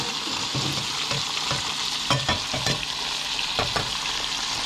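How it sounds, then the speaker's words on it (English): Peppers and onions fry in a pan with a steady, loud, close sizzle and crackle, broken by a few soft scraping stirs, with no one talking. "Gonna go ahead and flip these pretty quickly, just because the peppers and onions are on the bottom and cooking."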